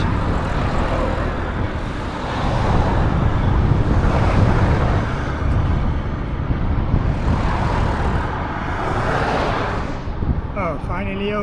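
Steady stream of cars and trucks passing on a busy Slovak road, a continuous loud roar that swells and fades as vehicles go by, with no clear gaps.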